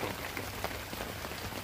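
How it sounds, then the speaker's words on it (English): Steady rain falls in a dense, continuous hiss of drops on surfaces, even and close, with no voices. "It's supposed to rain for 3 days."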